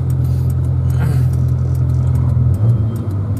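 A Suzuki Escudo engine fitted with a 7Fire racing CDI idles and revs with a deep, continuous rumble close by, rising briefly in pitch mid-way and again near the end, with faint ticking overhead.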